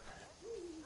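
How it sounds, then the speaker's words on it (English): A faint owl hoots once in a video game, a short soft falling call in a quiet setting. "It's an owl."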